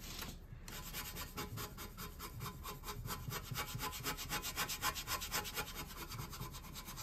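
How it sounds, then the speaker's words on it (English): A dry paintbrush scrubs paint onto a scarecrow figure, giving a soft, rapid back-and-forth scratching that repeats in a steady rhythm close up and quiet, with no voices. "So I want my brush to be really dry. Just going to scrub it in here."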